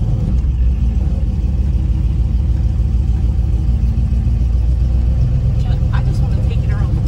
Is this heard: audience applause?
no